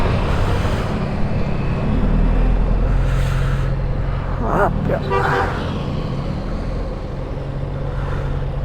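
Passing road vehicles make a steady traffic rumble, with one louder vehicle sweeping by midway, under a person talking.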